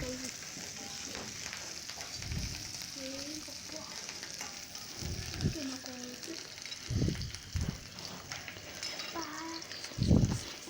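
Onions sauté for a curry in a pan, a continuous close sizzle with scraping stirs and clatter of a spoon, while someone speaks intermittently over it.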